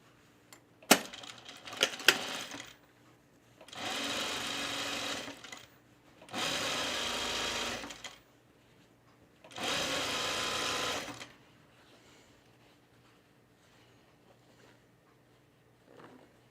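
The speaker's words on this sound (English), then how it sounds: "And now let's sew the other side of this French seam." Sewing machine stitching a French seam on a halter top, running in three steady bursts of about two seconds each with pauses between, preceded by a few sharp clicks and taps.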